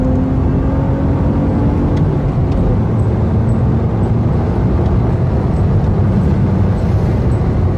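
A 2004 BMW Z4 2.2i drives along, its engine giving a steady, loud low drone with road rumble heard from inside the car, the pitch shifting slightly partway through.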